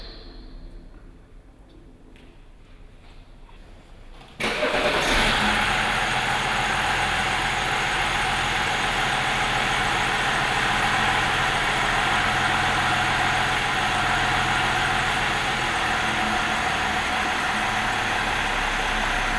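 A car engine starts up partway through with a sudden surge, then settles into a steady, loud idle that rumbles on unchanged to the end.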